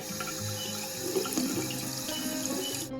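A Barbie doll is held under a running kitchen-style tap, water pouring and splashing steadily for a few seconds before cutting off abruptly at the end.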